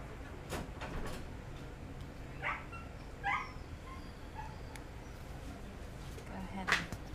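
A dog whimpers while blood is drawn from its jugular vein, with a few faint, brief high whines scattered over a low steady background and no speech.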